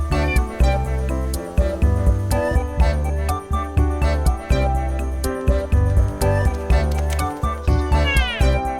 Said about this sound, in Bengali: ছোট বন্ধুরা এটা হলো ক্যাট ক্যাট মানে বিড়াল